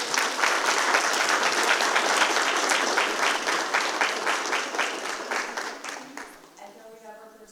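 A crowd at a Richland School District Two board of trustees meeting breaks into dense, steady applause that holds for several seconds and then tapers away, and a voice comes in just as the clapping fades.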